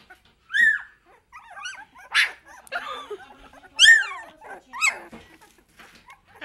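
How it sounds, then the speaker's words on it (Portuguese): Several small dogs, a black one and a white one, bark and yip in short, sharp bursts with whimpers between, close by and fairly loud, while someone talks over them. "agora é a pretinha que tá latindo"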